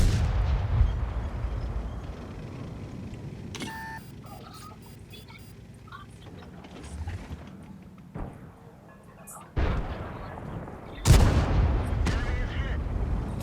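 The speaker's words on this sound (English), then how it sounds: "Thought I had a couple more rounds hit me" Tank shells boom and clang off armor in World of Tanks, a few heavy impacts with sharp bursts near the middle and end, separated by quieter engine rumble.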